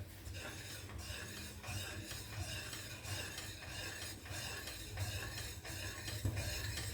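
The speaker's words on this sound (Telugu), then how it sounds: "5 minutes మాత్రం కంటిన్యూస్ స్టిరింగ్" Basmati rice with coconut milk payasam being stirred continuously in a pot on the stove, a steady scraping, swishing stir with faint bubbling underneath, close and even throughout.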